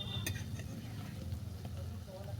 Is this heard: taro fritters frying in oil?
yes